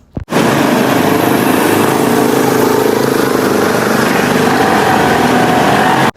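A motorbike riding through a village, its engine a steady, loud continuous drone close by from start to finish, with no talk over it.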